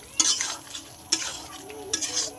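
Chicken with onion and chili, cumin and coriander powders being stir-fried in a pan, three separate scraping stir strokes over a soft sizzle, close and without talk.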